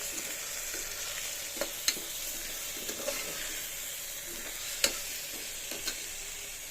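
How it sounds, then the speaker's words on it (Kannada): Spices with chili powder fry in a pan on a home stove, a faint, steady sizzle with a few soft clinks of stirring and no voices. "ಸೊ ಇಷ್ಟನ್ನ ನಾನಿವಾಗ ಫ್ರೈ ಮಾಡ್ಕೊತಾ ಇದ್ದೀನಿ"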